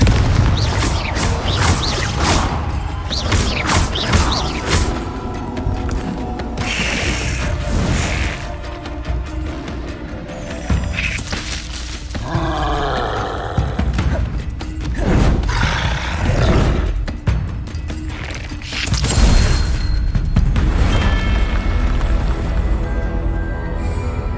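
Confringo fire spell blasts in Hogwarts Legacy combat, a run of loud booming explosions and crashes layered with game effects and occasional shouted voices.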